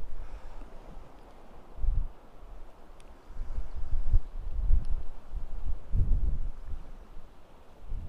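Wind gusting across the open North Antrim coast, buffeting the microphone with low rumbling surges that swell and fade over several seconds.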